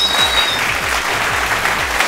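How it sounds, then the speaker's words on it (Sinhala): A TV studio audience claps on a Sri Lankan entertainment show, a brief loud burst of dense applause with low rhythmic music thumping underneath. "මේ දෙන්න දෙන්න ක්ලැප් මචං"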